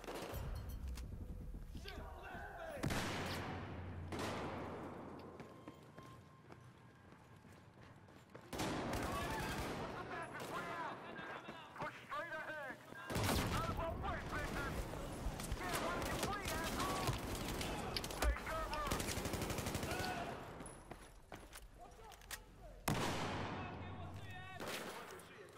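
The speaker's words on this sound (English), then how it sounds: "The shooting begins." Gunfire in the video game Battlefield 4 comes in several dense bursts of rapid shots and booming blasts separated by brief lulls, fairly faint overall, with some footsteps and thuds in between.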